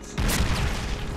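Enemy artillery shell from Call of Duty: World at War bursting in a loud, close boom with a sharp onset, followed by a sustained low rumble and debris noise that fades slowly.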